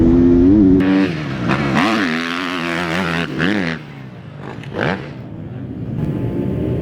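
A motocross dirt bike engine revs hard and climbs in pitch as the rider accelerates up to a jump, the loud two-stroke-style whine rising and falling in several surges, close by with no talk.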